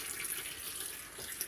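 Tap water runs steadily into a bowl to soak peppers for chile rellenos, a faint, continuous splashing stream with no talk.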